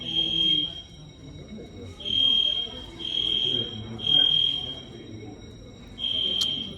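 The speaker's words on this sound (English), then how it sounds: "the alarm eventually stopped" A fire alarm sounds in an airport lounge with repeated loud, shrill electronic beeps, about one per second with brief gaps, over murmuring voices and background chatter.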